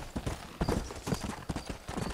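Horse hooves clip-clop in a steady rhythmic gait in the Red Dead Redemption video game on PS3, moderately loud and close, with even, repeated beats.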